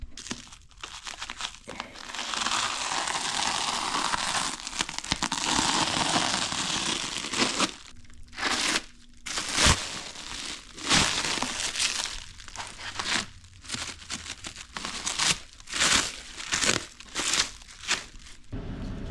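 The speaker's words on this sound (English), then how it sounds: "We're about to unwrap this Rock Solid Motorsports 850 Cert Bad Mama Jamma." Packaging on a Rock Solid Motorsports 850 Cert rollcage kit is unwrapped close up: a long stretch of loud plastic crinkling and tearing, then choppier bursts of crumpling and rustling with short pauses.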